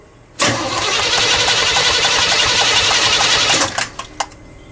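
A big block Chevy engine with its carburetor under test cranks on the starter for about three seconds in a loud, even, rapid whir. It stops abruptly and is followed by a few faint clicks.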